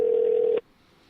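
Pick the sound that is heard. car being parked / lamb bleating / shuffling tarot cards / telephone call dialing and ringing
telephone call dialing and ringing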